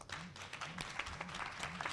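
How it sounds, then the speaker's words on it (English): An audience at a senior citizens' spelling-bee competition claps for a contestant, a short, dense round of applause with a faint voice humming under it. "so another round of applause"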